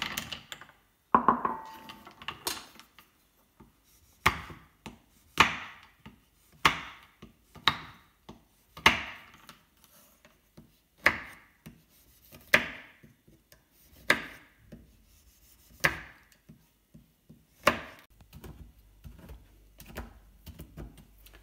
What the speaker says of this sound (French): Coupez le chocolat au lait.